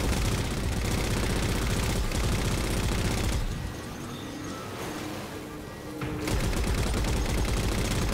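Dense automatic gunfire in the shooter game Halo 4, loud continuous bursts that ease off for a few seconds midway and then resume at full intensity, alone without clear talk.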